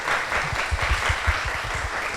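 A book-concert audience claps in welcome for an author, a brief, steady burst of applause at moderate volume with no speech over it.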